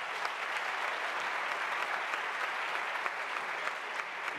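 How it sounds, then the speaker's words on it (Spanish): An audience at a Peruvian cooking talk on potatoes and highland tubers applauds Joao, creative head of Maido restaurant, with dense, even clapping sustained at full strength for several seconds. "un aplauso para Joao, por favor"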